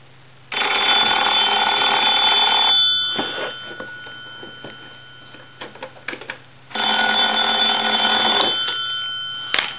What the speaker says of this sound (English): let's go ahead and ring the telephone